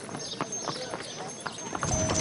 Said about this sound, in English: This horse is reversing.